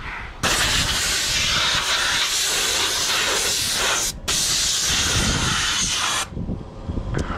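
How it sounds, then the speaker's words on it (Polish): A shop air compressor kicks on with a sudden loud, steady rushing hiss. The hiss dips out briefly midway, then runs on before cutting off after about six seconds. "Ach, się sprężarka załączyła."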